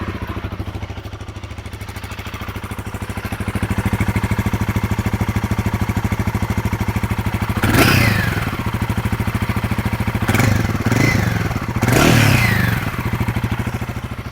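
A 450 cc motorcycle engine, a Guerrilla 450 or Triumph Speed 450, idles with a loud, steady thump and then revs sharply three times, each blip rising and falling back to idle.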